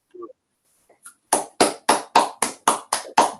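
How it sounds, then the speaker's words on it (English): Seminar audience clapping for the speaker Ruth as a few faint sounds give way to a series of about eight loud, evenly spaced claps, each sharp and distinct like a small group of unmuted participants clapping together. "let's unmute and give Ruth a round of applause"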